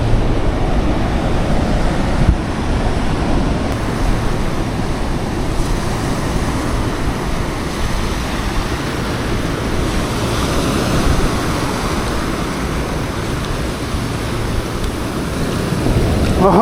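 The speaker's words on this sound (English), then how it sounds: "That wind is kicking this morning and it's coming from the southwest, so it's kind of churning up the water." Wind and surf churn along an empty beach on a blustery southwest-wind morning, a steady loud wash of breaking waves with continuous wind rumble buffeting the microphone throughout, no voices.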